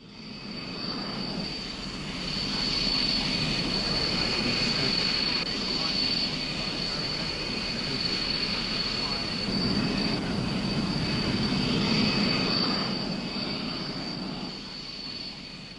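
A General Dynamics F-111F jet engine roars steadily for a long stretch, swelling and fading slightly, with a high-pitched whine running through it.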